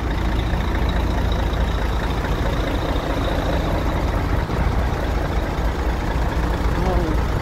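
Trucks and tractor heads idle in a large parking area in Dirab, Riyadh, filling the scene with a constant, loud, low engine rumble while someone talks over it.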